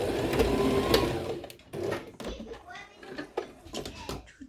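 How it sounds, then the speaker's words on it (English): A home sewing machine runs a double-backed seam on the lining of a dress with an invisible zip. The stitching whirs in short bursts, fairly close, then trails into quieter pauses. "There we go, it's on now."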